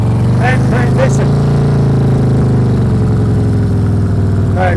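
A motorcycle engine runs loud and close at low, steady revs while the bike rides a slow figure eight in a training exercise, with a voice faintly under the constant drone.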